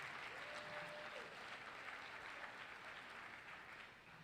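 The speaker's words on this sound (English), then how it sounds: "you can applaud that." Sustained applause from a large audience at the Cleveland Metropolitan School District's 2021 State of the Schools address, even and continuous, heard from a distance at low volume.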